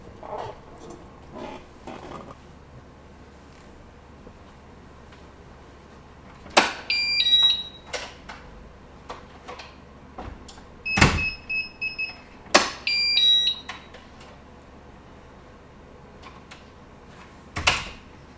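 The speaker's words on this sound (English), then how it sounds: "I'm going to walk by and activate the flashing alarm, flashing alarm and the audio alarm." Intermittent electronic beeps from a Hikvision ColorVu camera's deterrent alarm and DVR come in short, sharp tonal bursts over a quiet room hum, with scattered knocks and clicks between them.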